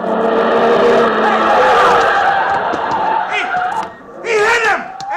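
In a 1949 suspense radio drama, a car roars and its tires shriek in a long skid, followed by a thud and a burst of excited crowd voices and shouting.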